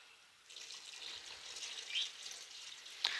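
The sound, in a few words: hot water poured onto fried rice in pot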